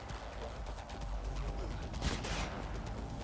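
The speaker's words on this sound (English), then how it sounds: "I know you're shooting at me" Gunfire aimed at the player in Cyberpunk 2077, a dense rattle of rapid shots and impacts over a rumbling game soundtrack, fairly quiet and continuous throughout.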